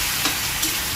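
Chicken feet adobo sizzling steadily in a pan, with a couple of quick utensil scrapes as the pieces are stirred, loud and close throughout.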